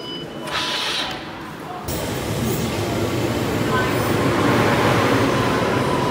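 A metro train at an Amsterdam metro station on platform 2, a steady, loud broadband rumble that swells after the first two seconds and holds, with faint voices underneath.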